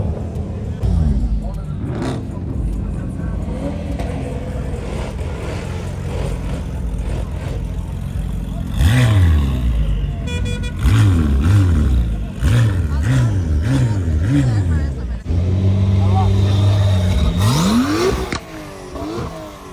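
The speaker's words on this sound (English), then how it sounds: "GTR rolling out." A Nissan GT-R pulls away from a car meet, its engine revving up in several loud rising bursts over a steady crowd and background noise, with other engines and voices around it.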